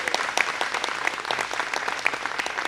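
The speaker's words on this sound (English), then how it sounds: "So give me just one general round of applause for all 12 of you." An audience at a Teacher of the Year announcement gives a round of applause for twelve teachers, a steady patter of many hands clapping at moderate volume from start to finish.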